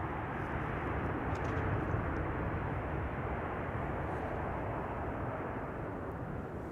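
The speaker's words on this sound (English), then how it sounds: "Next, KLM Flight 622 arriving from Atlanta, Georgia." A KLM Boeing 777-200 arriving from Atlanta lands at Amsterdam Schiphol, its broad, steady engine roar rumbling continuously at a moderate distance with no voices over it.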